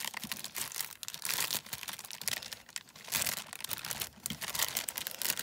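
Small wrapped parcel being unwrapped, with loud close crinkling and tearing of paper in continuous bursts, no talking.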